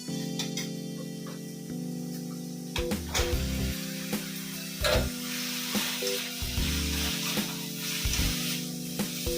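Kasuri methi tempering in hot oil for an egg and bottle gourd curry crackles and sizzles steadily up close, with occasional clinks and stirring knocks over a constant frying hiss and no talking.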